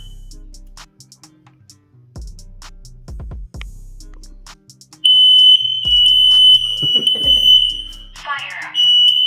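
A household smoke detector tested by pressing its button emits a loud, piercing, continuous high alarm tone up close that lasts several seconds, following quieter handling noises and muffled voices nearby.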